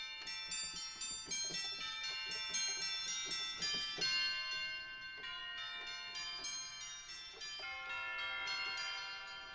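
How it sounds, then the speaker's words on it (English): A tubular bell synth patch from a Christmas sound pack rings out in a run of struck, sustained metallic tones with long shimmering overtones, notes overlapping steadily throughout at a soft level, with no voices. "The tubular bell, this is probably one of my favorite patches actually in this whole thing."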